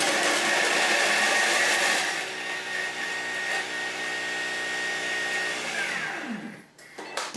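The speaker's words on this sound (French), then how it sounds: "je mets 2 petites gousses d'ail dans le bol du Thermomix. Vous fermez et vous allez mixer pendant 5 secondes" A Thermomix food processor chops garlic cloves and onion at speed 6, a loud, steady high-pitched whirring that holds for several seconds, then winds down with a falling pitch and stops, followed by a few faint clicks.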